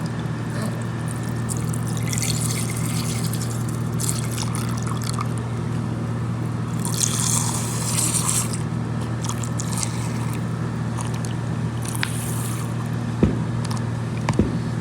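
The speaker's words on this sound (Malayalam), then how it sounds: "ഇനി പാൽ ഒഴിക്കാൻ പോകുന്നുണ്ട്." Milk is poured for a Nutella and Boost milkshake, a steady close liquid stream running for many seconds over a constant low hum, with a few clinks near the end.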